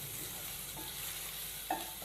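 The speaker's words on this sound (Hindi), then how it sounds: "तो प्याज को हम 1 मिनट के लिए फ्राई कर लेंगे" Chopped onions fry in a pan for an aloo kachori filling, a steady soft sizzle with a couple of light scraping stirs near the end, close and without voices.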